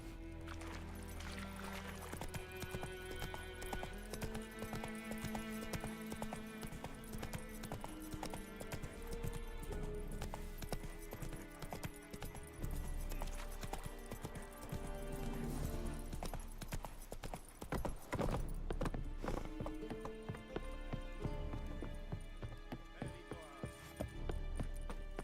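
Horse hooves clip-clop steadily at a gallop in The Witcher 3, running under a continuous musical score with a brief whinny-like accent, loud and sustained throughout.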